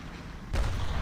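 A tank cannon fires in War Thunder Mobile as a sudden deep boom midway, rumbling heavily in the low end and sustaining into a loud rolling tail after quieter game ambience.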